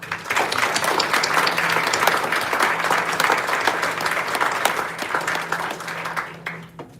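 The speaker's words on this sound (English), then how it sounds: "please join me once again in applauding all of our new National Honor Society members" An audience at a high school National Honor Society induction gives sustained applause that fades out near the end.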